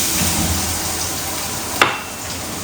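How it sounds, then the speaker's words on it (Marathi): Fenugreek greens tempered in hot oil with plenty of garlic and green chili give a steady, close sizzle, broken by a sharp spatter as ingredients hit the pan near the end, then frying on more quietly. "आता मेथीच्या भाजीला फोडणी देते फक्त भरपूर लसूण आणि हिरवी मिरची"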